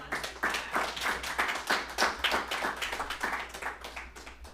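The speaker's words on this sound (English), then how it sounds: "One more round of applause" Audience clapping at the close of a talk at a tech conference, a moderate patter of many hands in a room, steady throughout with no voices over it.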